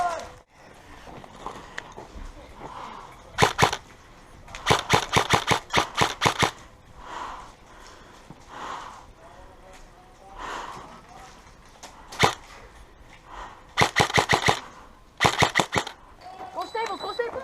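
Airsoft guns fire outdoors in sharp rapid bursts and single snapping shots, loud and repeated, with players talking and shouting between volleys.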